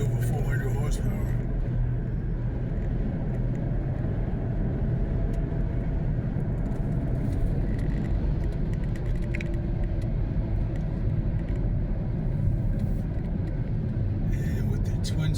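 Steady low rumble of a twin-screw turbocharged car making over 400 horsepower, heard from inside as it drives a canyon road, a continuous engine and road drone running throughout with a voice talking over it.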